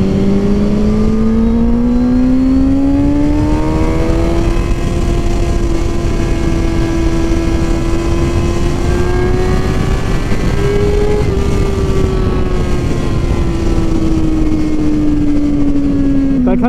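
A 138 PS sport motorcycle engine at speed while riding, a loud continuous drone whose pitch rises steadily through the gears then holds and slowly falls, with heavy wind rush and the voice of someone talking over it.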